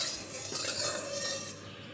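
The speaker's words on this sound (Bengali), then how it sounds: "দেখো এখানে তেল নেড়েচেড়ে কড়াইয়ের গায়ে খুব ভালোভাবে লাগিয়ে নিলাম।" A spatula stirs oil around the sides of a kadai (wok) while making an omelette curry, giving a soft continuous scraping and swishing rasp, close and steady for two seconds with no talk.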